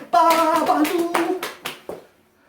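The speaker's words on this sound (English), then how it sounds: "I keep hitting myself in the legs like this." A voice sings or chants while hands slap against legs, ending with a couple of sharp, separate smacks.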